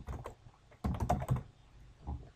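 A computer keyboard is tapped out in several quick, quiet bursts of clicky keystrokes with brief pauses between them, typing text in Photoshop.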